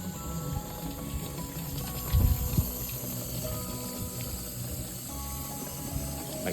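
Water runs and splashes steadily over a harvested meat bird being washed at a sink, with a brief louder slosh midway as the carcass is handled.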